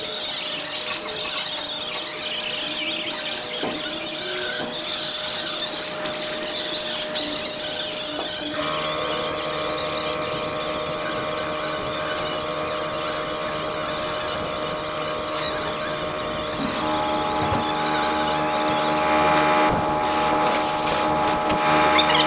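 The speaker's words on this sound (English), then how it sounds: "you're going to use the same grinder and you're going to grind the edges" An angle grinder works the edges of a 2015 Nissan Versa door skin, giving a steady, loud high whine with a gritty rub that holds without pause across the whole stretch.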